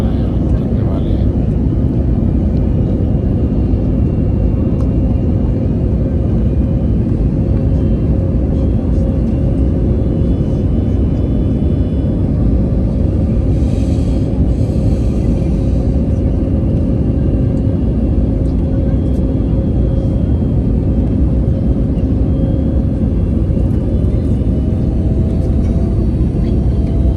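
Steady, loud low rumble inside an airplane cabin while flying over Sharjah, constant engine drone throughout with a faint murmur of voices in the background.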